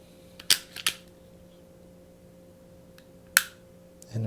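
A SIG Sauer P365 pistol gives sharp, close mechanical clicks from its trigger pull and reset, two quick clicks, a pause, then another crisp click, with light handling noise.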